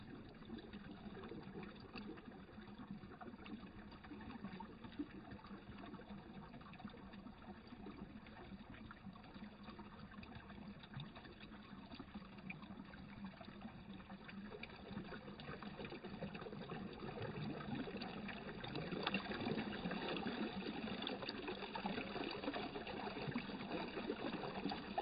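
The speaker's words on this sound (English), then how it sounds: "I'm just so excited that there's so much water flowing." A stream along the Appalachian Trail trickles and babbles in a soft, continuous flow that grows slightly louder toward the end, with no voices.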